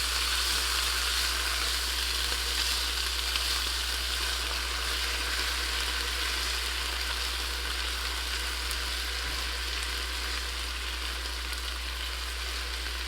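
A steady, loud sizzle of onions frying with vinegar in a hot pan, constant and crackling throughout with no voices.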